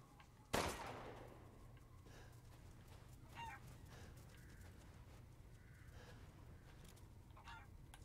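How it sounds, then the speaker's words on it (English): A chicken in the horror video game Resident Evil Village gives a sharp squawk, followed by a few quieter scattered clucks against a low, hushed ambient background. "Why is there a chicken?"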